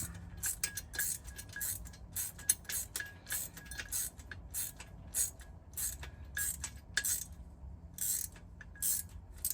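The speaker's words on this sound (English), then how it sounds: "Flip that wrench around." A wrench ratchets in quick clicking bursts while tightening a bolt on a rear MOLLE panel and shelf install in a Land Cruiser 250, the crisp repeated clicks close and clear against a low background hum, with no talking.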